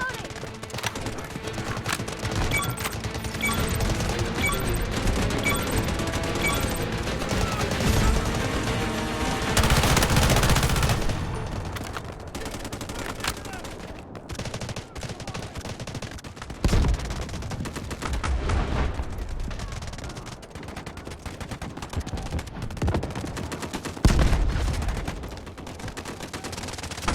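Sustained automatic gunfire during a warfare match in Delta Force Mobile, with bursts of rapid shots, a few heavy booms, and shouting voices mixed into the close, loud battle.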